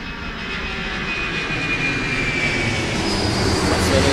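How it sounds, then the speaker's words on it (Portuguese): A recorded airplane passes from left to right in stereo, a broad, loud engine roar that swells steadily louder across the few seconds with no break. "Então você consegue perceber que o avião está saindo da esquerda para a direita, ele está passando por você."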